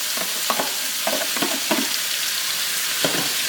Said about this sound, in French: J'ai de l'huile qui est en train de chauffer, je vais venir ajouter mes oignons.